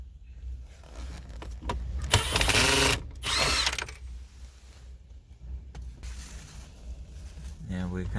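A power driver with a T20 Torx bit whirs in short bursts while removing center console screws from a BMW F30, close and moderately loud, with a person talking between the bursts.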